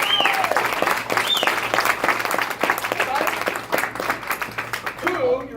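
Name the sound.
audience applause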